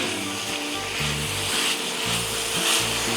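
Shredded chicken is stirred in a hot cast iron skillet over medium heat, giving a steady loud sizzle with scraping and rubbing from the utensil moving through the meat. It runs on without pause and no one talks.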